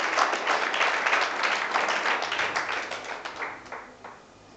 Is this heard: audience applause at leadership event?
yes